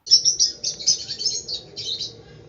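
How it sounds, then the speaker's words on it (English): Lovebird chirping in a steady run of high, bright tweets and short calls, loud and close, with no other sounds over it. "The first bird that I chose as a good apartment bird is none other than the lovebird."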